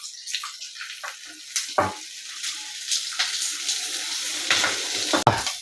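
Sliced onions frying toward golden brown for moru curry, a soft, continuous sizzle broken by intermittent scraping stir strokes, close and fairly quiet, with no talking.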